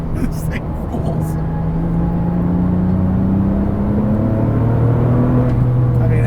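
A Porsche 997 GT2 RS with a manual gearbox accelerates hard, its engine rising steadily in pitch. The loud, continuous drone is heard from inside the car.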